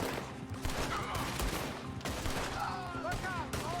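Rapid bursts of gunfire in the video game Red Dead Redemption 2, dense overlapping shots during a Wild West shootout in an alley, mixed with game voices and background action.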